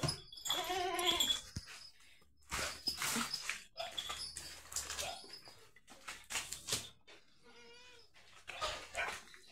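Several goats bleat in repeated bursts on a goat farm at night as they are penned, some close and loud, others fainter, with quiet gaps between calls.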